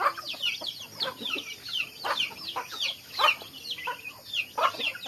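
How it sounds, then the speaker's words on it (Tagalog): Chickens cluck and squawk continuously at close range at a farm in Quezon during morning feeding, with many overlapping birds calling in busy, irregular bursts. "Yung mga manok."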